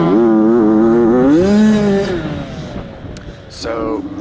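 A super loud dirt bike at a Super Mini hare scramble race roars close by, its engine pitch climbing and wavering through rising revs before fading off into the distance.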